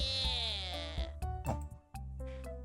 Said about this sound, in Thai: มันเป็นเสียงเป่าบับเบิลนะ เป็นโบรบับเบิลนี่ครับ